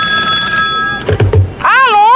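Electronic telephone ring on a Brazilian radio comedy call, a steady tonal trill followed by a couple of thumps and a short warbling ring tone, brief and close.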